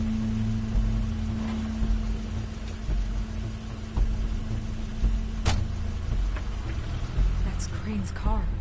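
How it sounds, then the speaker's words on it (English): Crane's car pulls up in The Wolf Among Us, a steady engine rumble running beneath voices, with a brief mechanical whir near the end. "That's Crane's car."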